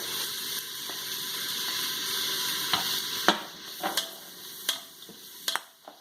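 Steady sizzle of garlic frying in a hot pan, broadband hiss throughout with a few sharp clicks and pops from stirring toward the end.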